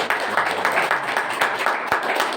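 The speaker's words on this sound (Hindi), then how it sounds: "आइए हम तालियों की तरह प्रभु का वेलकम करते हैं" A church congregation at a Palm Sunday service applauds together, a dense wash of many hands with slightly pulsing surges, moderately loud and steady throughout.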